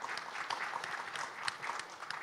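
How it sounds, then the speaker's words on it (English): A conference audience applauding for a speaker, a short burst of steady, fairly faint clapping from a crowd in a hall. "Please give Richard a round of applause."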